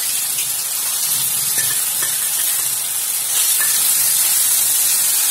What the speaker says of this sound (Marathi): सरसूचं तेल व्यवस्थित तापलं की याच्यात आधी आपण आलं लसूणची पेस्ट टाकूया